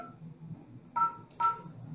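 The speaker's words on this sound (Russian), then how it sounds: "Набираем 2001. Вызов идет." Two short DTMF beeps sound as an extension is dialed on a Yeastar IP phone, each crisp dual-tone pip about half a second apart over faint room hum.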